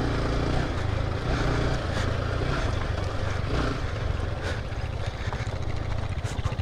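A KTM Duke 390 motorcycle rides along a rough, badly broken road, its engine droning steadily and loudly up close under heavy wind buffeting, with no talk.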